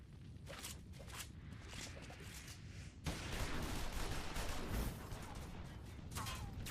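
Gunfire in the Final Fantasy XIV Stormblood story, a faint patter of shots that swells after a few seconds into a denser, louder volley of rapid fire with scattered clanks and movement.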